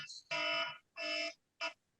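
A phone alarm going off in three repeated electronic bursts, the first two long and the last short, with brief gaps between them. The tone is bright and harmonic, clear and close, with no talk over it.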